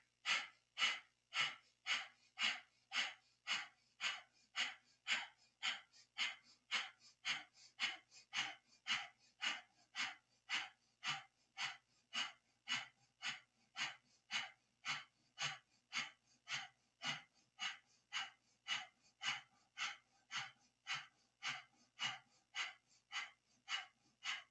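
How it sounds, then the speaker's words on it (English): Breath of fire yoga breathing during a kundalini stretch pose: steady, rapid, forceful nasal exhalations at a little under two per second, close and evenly paced throughout. "For 1 minute, we'll do stretch pose with breath of fire."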